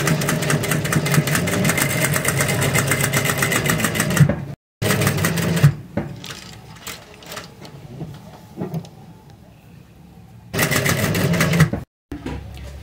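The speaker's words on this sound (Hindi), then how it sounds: "इसके बाद अब गले की मोड़ने के बाद ऊपर से एक सिलाई जाएगी।" Sewing machine stitching along a kurti neckline, a fast steady mechanical whir and needle rattle in long runs broken by brief pauses and handling noises, close up and without talk.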